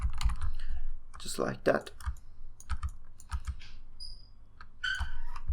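Keys on a computer keyboard click in short irregular bursts, fairly close, mixed with mouse clicks and a brief spoken phrase.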